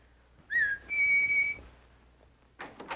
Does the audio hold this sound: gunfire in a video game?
no